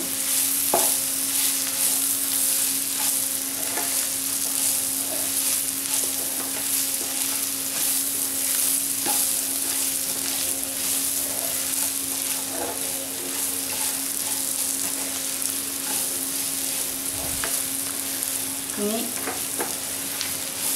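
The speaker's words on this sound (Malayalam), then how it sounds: "നമ്മുടെ മെയിൻ ഇൻഗ്രീഡിയൻ്റായ ലിവർ ഇട്ട് കൊടുക്കാം ലിവറും കൂടി ചേർത്ത് കൊടുത്തു" Liver sizzles steadily in a spiced masala in a pan, a loud continuous fry with intermittent stirring scrapes and light utensil taps, and no voices.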